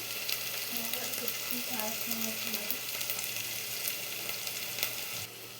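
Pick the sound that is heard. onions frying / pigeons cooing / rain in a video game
onions frying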